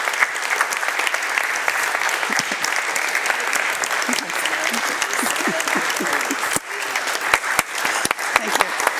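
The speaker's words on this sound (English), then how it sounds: "Let's have a round of applause for Reverend Eleesabeth." Sustained audience applause fills a church service at Unity San Francisco for Reverend Eleesabeth after her affirmative prayer, steady dense clapping throughout with a few sharper individual claps and faint voices mixed in.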